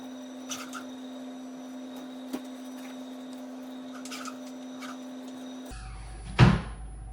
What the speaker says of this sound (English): close the cabinet?